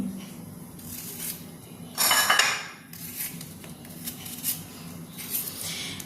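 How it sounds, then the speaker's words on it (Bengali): Potatoes, onions and spices being cut in a home kitchen, with quick knife and utensil clatter on a board and a louder burst of clinking dishes midway, close and fairly quiet throughout. "এদিকে আমি আলু পেঁয়াজ যে বাদবাকি মশলাগুলো আছে সেগুলো ঝটঝট করে কুটিয়ে নিই"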